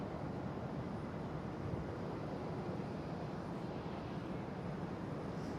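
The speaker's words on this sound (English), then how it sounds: "There goes the KLM Cityhopper E190." KLM Cityhopper Embraer E190 jet taking off from Amsterdam Schiphol: a steady, broad engine roar with wind rumble, fairly distant and constant throughout, no speech.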